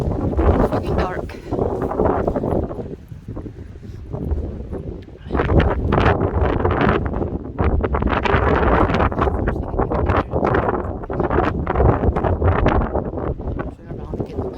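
Wind gusts buffeting the microphone on a rainy, snowy night walk along a dark road, a loud continuous roar that swells and drops throughout with no clear pauses.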